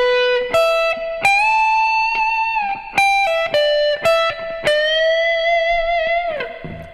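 A distorted electric guitar blues lick in the upper register, the player picking a series of notes and pushing full string bends that hold with vibrato, sustained and fairly loud with no voices.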